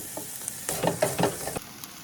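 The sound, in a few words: beef sizzling in a pan for quesadillas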